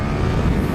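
A 2020 KTM Super Duke R pulls hard in first gear up a hill, its engine a loud, steady low roar heavily buffeted by wind noise on the microphone, briefly and without letup.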